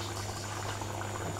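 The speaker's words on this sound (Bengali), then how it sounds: "আমি আবার ভাত ডাল চুলায় দিয়েছি" Rice and dal boil on a stove in a steady, soft bubbling simmer over a constant low hum, with no pauses and no voices.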